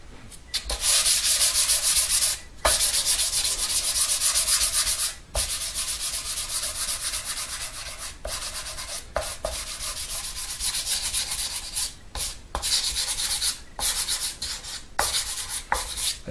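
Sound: sandpaper sanding wood

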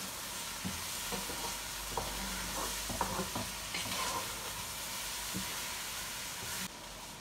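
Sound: stirring and toasting rice in a pot for biryani

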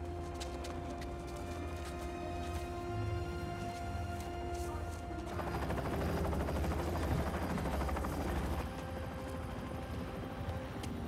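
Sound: helicopter flying, from the video game Spider-Man 2

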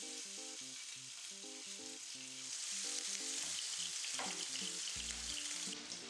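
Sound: sliced sausage frying in oil in a pan

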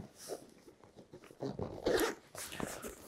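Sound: two-way zipper on a military backpack pocket

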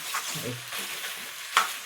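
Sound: spice tempering frying and being stirred in a pan

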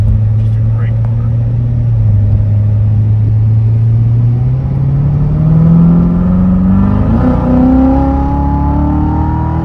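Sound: Chevrolet Corvette Z06 V8 engine rumble

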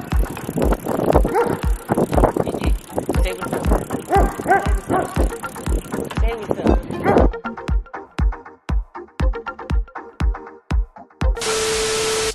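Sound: bicycle ride with a chihuahua on board

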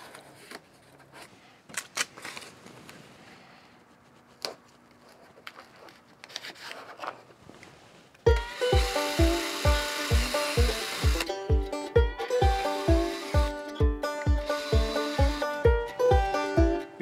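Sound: drilling pilot holes

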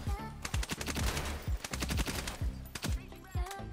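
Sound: Honey Badger assault rifle hipfire in video game Ironsight

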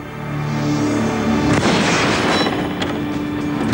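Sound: gun firing an arrow in a magic trick

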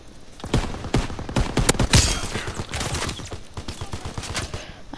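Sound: gunfire in a team deathmatch video game

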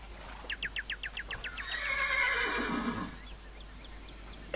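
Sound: horse neighing, from video game Minecraft

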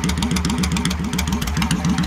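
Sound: Ridley Auto Glide motorcycle engine idling

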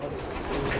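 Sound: Teddy pigeon cooing

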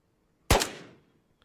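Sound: gunfire in the video game Ghosts of Tabor

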